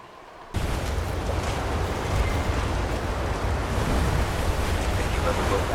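Steady seaside roar of surf and wind washing over a beach in the fantasy game Dragon Age: Inquisition, starting after a brief quieter moment and holding as a continuous broad rush with no clear individual wave breaks.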